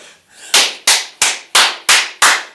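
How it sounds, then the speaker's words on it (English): Clapping for Joe Red on a live show: six loud, sharp claps close by, evenly spaced about a third of a second apart. "Clap for Joe Red right quick"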